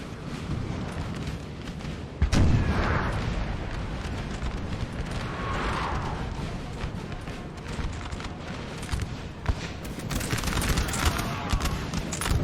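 Napoleon: Total War battle with distant musket volleys crackling continuously and occasional deeper artillery booms from guns on high ground, one sharp loud cannon report early, all in a busy, far-off battlefield din.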